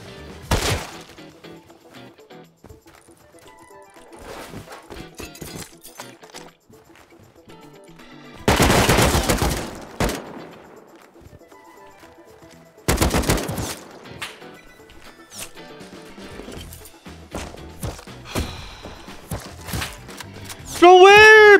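Suppressed gunfire in a video game arrives as a few loud, dense bursts separated by quieter stretches of game ambience and small clicks, with a sweeping tonal sound at the very end.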